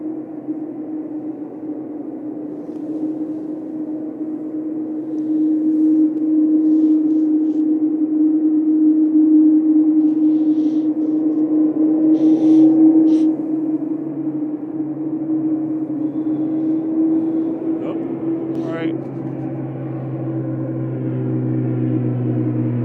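An Aer Lingus airliner at Manchester Airport gives off a steady droning engine hum with a sustained low tonal whine, heard continuously from a distance and swelling slightly midway, with faint clicks on top.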